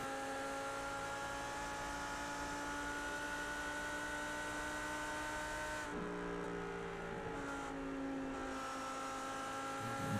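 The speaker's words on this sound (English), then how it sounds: "Beautiful, sweet sounding Audi there" An Audi GT3 race car in the iRacing sim at Suzuka sounds a continuous loud, tonal engine whine that holds steady, then drops in pitch and rises again as it shifts and brakes, with no voices.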